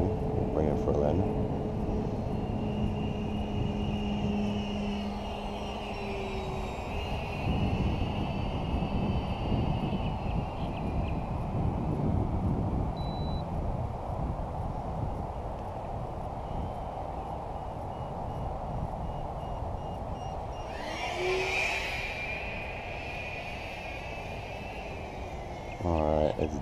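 FMS 70mm F-16 RC jet airplane with a 10-blade ducted fan coming in to land at a park, a steady rushing whine with wind noise throughout and a brief louder swell near the end, under people talking.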